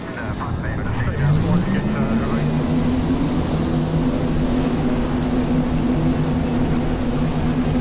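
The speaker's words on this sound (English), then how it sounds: "Let's get on track to fire these cars up for racing at Texas." Several race car engines fire up together at Texas Motor Speedway in the NR2003 racing video game, building into a dense, loud droning rumble whose pitch climbs and then holds steady, with a voice talking over it.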